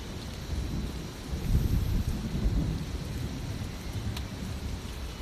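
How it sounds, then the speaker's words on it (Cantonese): Heavy rain falls in a steady hiss while deep thunder rumbles low and swells, then fades back into the downpour, all at a moderate, distant level. "雨水流過你塊面"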